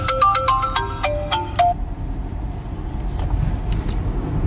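A phone ringtone that sounds like a house phone plays a quick series of bright electronic tones that stop after about two seconds, with vehicle engine rumble and road noise continuing throughout.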